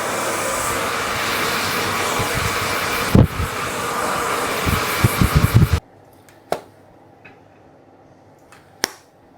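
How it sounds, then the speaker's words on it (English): A hair dryer blows hair dry with a steady whooshing roar for several seconds amid some bumps and thuds, then cuts off, leaving quiet with a couple of knocks. "I just dried it with the hairdryer, just like blasted it really quickly"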